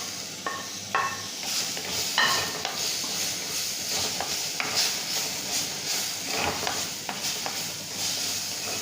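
Chopped tomatoes frying in a pan for a raw banana curry, a steady sizzle and hiss with scattered clinks and scrapes of a spoon stirring against the pan.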